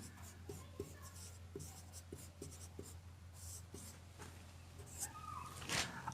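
Chalk or pen writing on a board for a class 6 maths lesson, a steady run of scratchy strokes and taps over a constant low hum, fairly close, with no talk.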